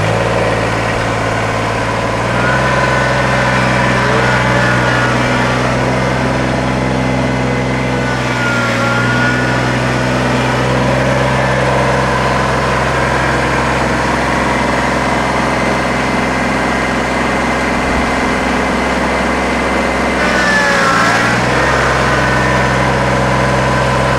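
Kubota BX25D compact tractor running steadily nearby, a loud low diesel drone with slight shifts in pitch as it drives forward, reverses and comes to a stop, no talking over it.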